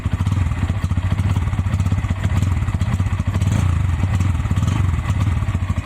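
A 2024 Bajaj N160 motorcycle idling just after electric self-start, a loud, close, steady thumping single-cylinder putter with even rhythm and light mechanical clatter.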